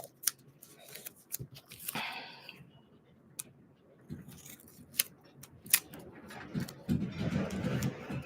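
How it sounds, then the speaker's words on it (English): A strip of masking tape peels away from a painting surface with a short ripping rasp, followed by scattered small clicks and taps, while wind rumbles and gusts outdoors in the background. "One more little tape off."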